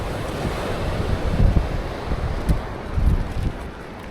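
Sea waves at Arthunkal Beach roll and break in a continuous surging roar, with a few louder swells and gusty wind buffeting the microphone; no voices are heard.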